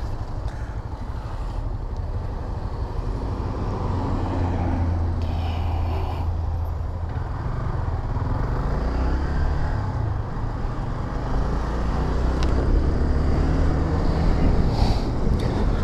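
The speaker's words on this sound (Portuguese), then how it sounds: "Olha só o engarrafamento." Steady rumble of a highway traffic jam on the BR-232 heard from a moving motorcycle, with wind buffeting the microphone throughout and no clear voices.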